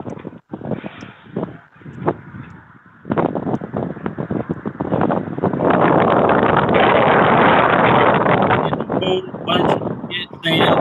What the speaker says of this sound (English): It's fucking windy in Jacksonville right now.